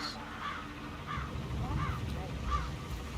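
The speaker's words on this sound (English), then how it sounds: "It's the birds. They're making a racket." Crows caw in the Hitman 3 video game, about four harsh calls spaced roughly evenly at moderate loudness, with low voices murmuring beneath.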